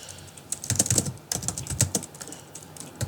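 Quick, close keystrokes on a computer keyboard while web code for a Firebase sign-up function is typed. Irregular bursts of clicks come with brief pauses between them, and no voices are heard.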